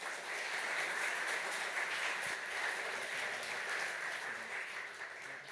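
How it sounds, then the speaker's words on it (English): At a security conference, an audience gives a warm round of applause to three speakers taking the stage, a steady, even patter of many hands holding at moderate loudness throughout. "Please give a warm round of applause"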